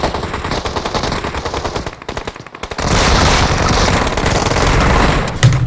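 Continuous gunfire in the PUBG Mobile battle royale game, with dense rapid automatic bursts throughout that grow louder and heavier after a brief dip midway, no speech over it.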